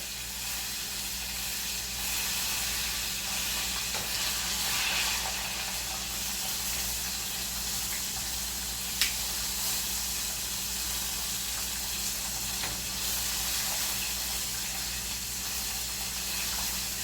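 Walleye fillet, crusted in potato, frying in oil: a steady, dense sizzle and hiss that holds evenly throughout, close and continuous with a faint click partway through.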